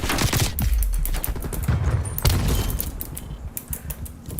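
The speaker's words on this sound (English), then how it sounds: "Oh! Throwing grenade." Gunfire and blasts in a combat video game around a thrown grenade, loud dense volleys with sharp cracks that ease into scattered shots and clicks.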